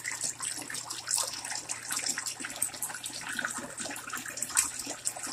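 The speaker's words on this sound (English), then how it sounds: "Now I'm draining the water." Water drains from a Della 30-pound portable washing machine, a steady splashing gush that runs continuously at moderate level, close by and without talk.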